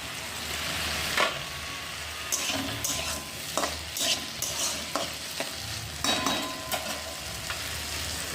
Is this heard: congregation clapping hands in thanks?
no